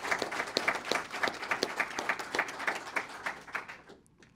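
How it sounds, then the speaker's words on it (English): Audience at a university partnership signing event applauding, a moderate crowd of clapping hands with a distinctly pulsing texture that carries steadily, then quickly thins out and stops near the end. "let's give them a round of applause"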